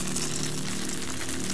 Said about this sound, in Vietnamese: chiên ngập dầu á.